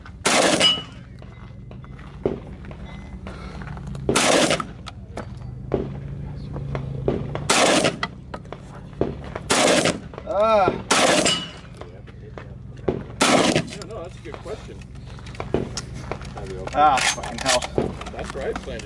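Shotgun blasts from slug rounds at a practical shooting match, several loud sharp shots spread unevenly over the span, with people talking and moving around between them.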